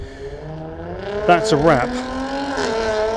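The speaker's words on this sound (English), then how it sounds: "You can hear all the cars leaving" Jaguar cars drive away from a car meet, engines revving and rising in pitch in several bursts, fairly close and loud, with someone talking briefly over them.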